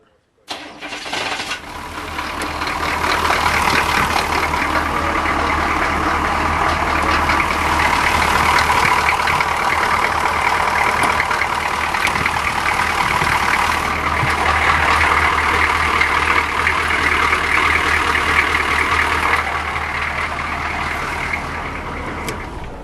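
An engine with a gear reduction starter cranks briefly and catches, then settles into a steady, fairly loud, rough idle that runs uninterrupted for about twenty seconds.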